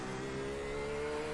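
LMP2 prototype race cars in an iRacing IMSA race at Long Beach sweep past with a steady, loud engine drone and whine that holds evenly throughout, with no talk.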